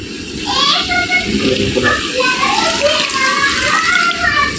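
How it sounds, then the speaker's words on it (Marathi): Water splashes and gurgles steadily into a pot of fenugreek curry at close range, with children's voices chattering in the background throughout. "याच्यामध्ये आता आपल्याला पाणी टाकायचं आहे मस्तपैकी"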